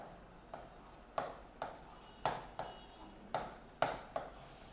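Writing strokes scrape and tap on a board in a regular rhythm, about eight quick marks each ending in a soft knock, close and fairly quiet with no talking.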